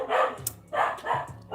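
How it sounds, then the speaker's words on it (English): Dogs bark in the background in a few short bursts, several overlapping woofs with yips, moderately loud with brief pauses between barks. "Can you guys hear the dogs barking in the background?"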